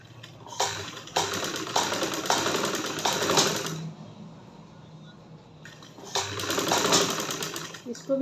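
A sewing machine stitching a garment for a one-year-old girl runs in two bursts of rapid mechanical whirring, one long and one shorter, with a quieter pause between them and faint background sounds.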